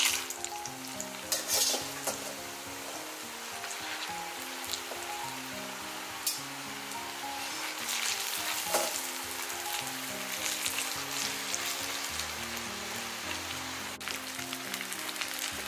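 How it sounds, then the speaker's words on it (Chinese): Shiitake mushrooms sizzle and crackle steadily as they are double-fried in reheated oil, a continuous bubbling hiss with occasional sharper pops, close and unaccompanied by talk. "再将油温升高给它复炸一遍，这样吃起来的话更加的酥脆"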